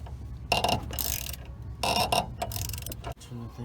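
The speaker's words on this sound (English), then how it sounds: "we've got a 15 millimeter socket on that top bolt" A 15 millimeter socket wrench working the top shock bolt on a 2000 Ford Ranger: several bursts of quick ratcheting clicks, close and mechanical, separated by brief pauses.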